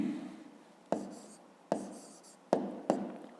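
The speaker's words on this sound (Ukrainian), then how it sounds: "Ну і тепер записуємо тоді відповідь" Pen strokes writing an answer by hand for a fifth-grade maths exercise, a steady soft scratching with four sharper taps as the pen lands, close and quiet with no talk.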